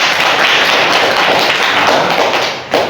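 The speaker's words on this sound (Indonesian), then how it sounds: "Tepuk tangan dulu buat teman kalian" Schoolchildren in a classroom give a classmate a loud, dense round of applause. Many close hands clap in a continuous wash that cuts off abruptly near the end with a single thump.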